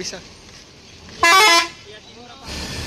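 A bus horn gives one loud, sustained blast of about half a second, close by, between stretches of engine and road noise, followed by a rising engine roar.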